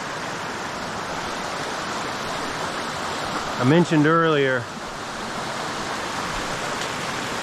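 Roaring creek water in the Smoky Mountains rushes in a steady, loud broadband wash that fills the whole stretch, with someone briefly talking over it midway.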